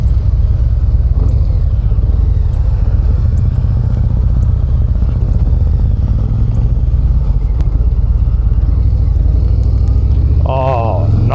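A 2025 Harley-Davidson Breakout cruiser rumbles at low speed around a parking lot, its loud, steady engine drone close throughout, with a rider talking over it.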